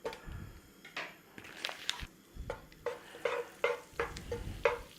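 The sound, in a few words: frying onion and garlic in oil and butter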